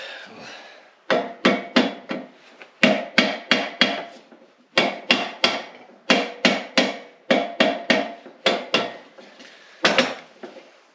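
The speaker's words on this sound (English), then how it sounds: "I should probably get a rubber hammer" A rubber hammer taps on diesel-electric motor gearcase parts from a LeTourneau Tournapull D, striking in quick close bursts of three to five blows separated by brief pauses, alone in a quiet workshop.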